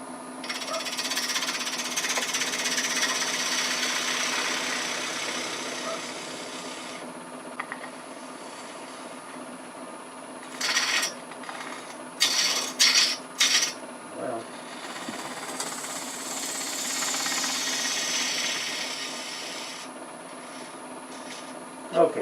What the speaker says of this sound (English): I'm just going to use this detail gouge since it's here.